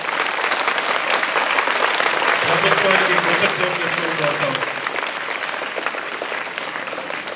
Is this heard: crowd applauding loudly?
yes